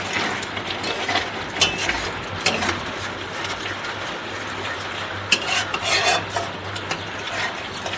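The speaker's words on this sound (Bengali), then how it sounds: "এটাকে লো ফ্লেমে ভালো করে নাড়তে হবে" Spices with ground cumin being stirred in a pan over a low flame while cooking at home, soft scraping and light sizzling with scattered utensil clicks, quiet and continuous.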